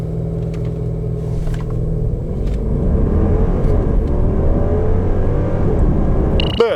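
A 2018 Mercedes-Benz S560 4MATIC accelerates hard from a standstill toward 100 km/h. A deep engine rumble grows steadily louder and climbs through the gears, heard close and on its own.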